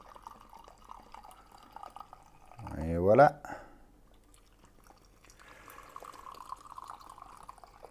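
Water is poured onto sencha tea leaves in a short splashing stream lasting about a second, its pitch rising as the vessel fills, while a voice speaks briefly afterward.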